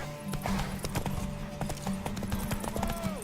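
Horse hooves clip-clop steadily at close range in The Witcher 3, with a low droning background and brief game sound effects layered around them.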